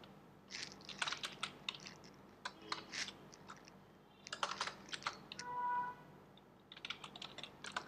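Code being typed on a computer keyboard in quick bursts of close, crisp key clicks separated by short pauses, with one brief longer keystroke run, no talking.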